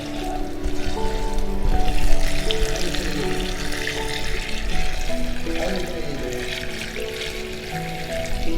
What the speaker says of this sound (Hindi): आप देख रहे हैं कि पानी इसमें एक बाल्टी डाला जा रहा है उस कुएं के पास